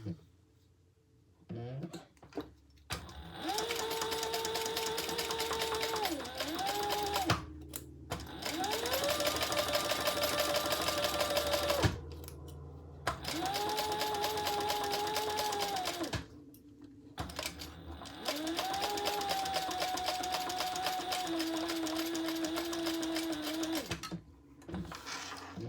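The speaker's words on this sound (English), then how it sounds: "we're going to sew the seam allowance in the pattern" A sewing machine stitches the seam allowance of a crossbody bag in four long runs separated by short pauses, the motor hum steady and close throughout.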